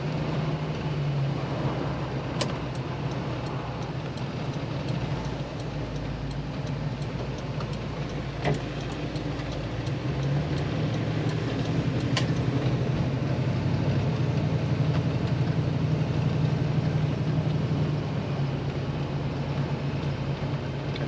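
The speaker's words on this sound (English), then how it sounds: "I do have a microphone on the bumper, picking up the exhaust note of the ZZ4" A 1933 Ford street rod's ZZ4 engine idles with a quiet, loping exhaust note, heard close through a bumper-mounted microphone, as a steady low throb that runs on throughout with a few faint ticks.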